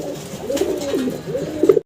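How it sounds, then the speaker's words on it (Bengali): A male yellow shallow pigeon coos nearby in a loft in a rolling, repeated low call, clear and alone, over about two seconds. "নর ডাকতেছে ঘুরা ঘুরা।"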